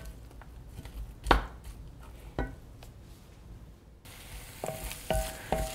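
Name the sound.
sautéing sliced onion in a pan for tomato sauce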